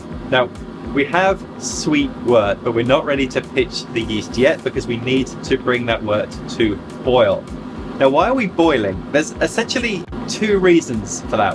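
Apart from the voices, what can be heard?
kitchen extractor fan running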